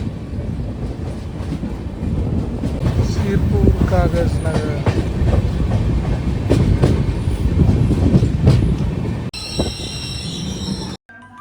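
A passenger train runs into Sirpur Kagaznagar railway station in Telangana, its loud rumble and wheel clatter rolling on steadily with a voice briefly heard over it, before the sound cuts off abruptly near the end.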